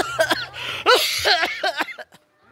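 A person coughs repeatedly in harsh bursts, several loud hacking coughs in quick succession, close and fading into silence at the end.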